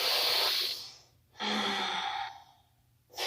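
Two long, audible exhalations through the nose and mouth during a seated yoga twist in a power vinyasa class, with a short quiet gap between them and the start of another breath at the end.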